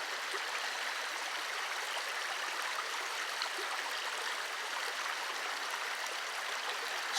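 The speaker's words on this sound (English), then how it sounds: "river is called La Mina." The La Mina river in El Yunque rainforest, Puerto Rico, rushes steadily, a constant close wash of flowing water with no voices.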